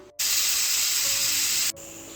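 A pressure cooker cooking pink cabbage lets out one loud, steady burst of steam hiss lasting about a second and a half, starting and stopping abruptly, with a quieter hiss left after it.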